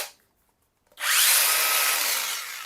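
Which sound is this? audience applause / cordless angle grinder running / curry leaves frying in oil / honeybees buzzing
cordless angle grinder running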